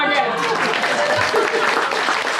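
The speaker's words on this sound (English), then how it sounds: "I just want everybody to clap" An audience at a featured author event for Dionne Ford claps together in a thick, continuous burst, close and fairly loud, lasting a couple of seconds with some voices mixed in.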